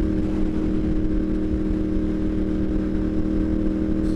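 A Ducati Monster 696 motorcycle cruising on a highway, a steady, loud low engine drone with constant wind rush, unbroken and close, no talking.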